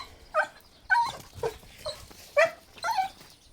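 A female dog just let out of her enclosure whimpers and yips in short, rising bursts, about six cries spaced roughly half a second apart, close by and fairly clear, eager to go for a walk.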